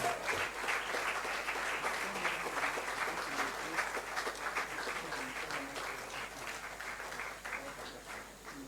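Continuous applause from a large audience at a South Africa–Nigeria diplomatic anniversary event, steady dense clapping throughout that tapers slightly toward the end, with some faint voices underneath.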